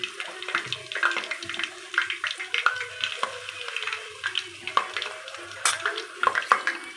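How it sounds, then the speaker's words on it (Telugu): Small ravva boorelu deep-fry in hot oil on high heat, a steady, close crackling and bubbling with sharp pops scattered throughout and no voices. "అట్లా హైలో పెట్టి ఇట్లా ఫ్రై చేశారంటే లోపల కొంచెం ఉడుకుతుంది అనమాట"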